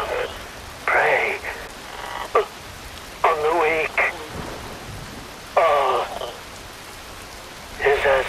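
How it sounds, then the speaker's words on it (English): Rain falling in the game Metal Gear Rising Revengeance, a steady soft hiss running throughout beneath someone speaking in short spaced phrases. "Wind blows. Rain falls."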